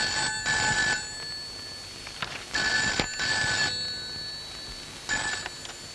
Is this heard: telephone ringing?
yes